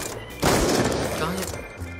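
A weapon fires in a Call of Duty Black Ops 2 quick-scope match, one loud burst that rings out and decays over about a second, close and dominant.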